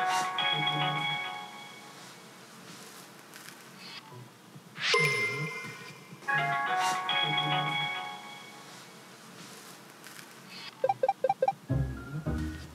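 A mobile phone left behind rings with repeated electronic chiming tones, heard fairly clearly in a room in a Korean TV scene, with a brief clattering burst near the end.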